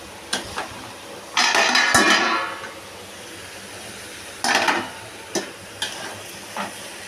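Poppy seed paste being stirred into a pan of ridge gourd and potato, with scraping spoon strokes in a few bursts, one longer pass then shorter ones, over a light cooking hiss, close and fairly quiet.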